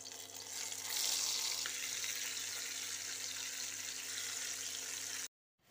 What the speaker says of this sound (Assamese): মছলা সানি লৈ এতিয়া এইখিনি ফ্ৰাই কৰিম